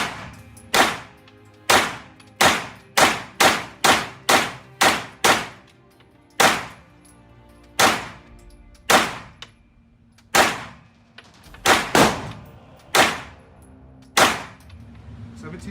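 Bear Creek Arsenal BC 9 AR pistol fired outdoors, about twenty sharp loud reports, starting slow, then a quick run of evenly paced shots, then slower spaced ones, each followed by a short ringing echo, with no talking.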